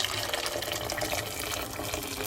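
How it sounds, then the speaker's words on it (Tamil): Water running from a tap into a pot of potatoes being readied for boiling, a continuous close hiss and splash of filling liquid with no pauses. "உருளைக்கிழங்குக்கு மேலால் தண்ணி நிற்கிற மாதிரி விட்டு அவிய விடுவோம்"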